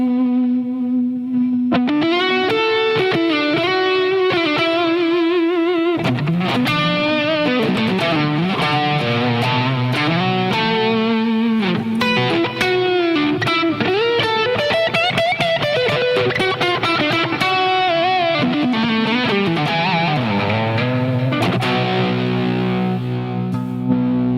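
An electric guitar played through a Line 6 Helix with a distortion effect rings out loud and sustained, with chords and lead lines under a thick, saturated tone that runs continuously.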